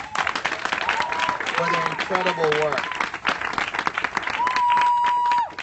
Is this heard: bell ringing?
no